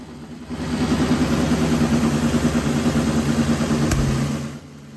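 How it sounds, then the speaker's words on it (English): A Norton Nemesis V8 motorcycle engine runs steadily on fast idle at about 1,500 RPM in a workshop, a loud, even, throbbing drone that holds constant before cutting off near the end. "With the engine on fast idle, Dave wants to check the synchronisation of"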